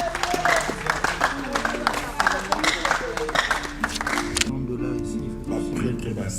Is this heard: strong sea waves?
no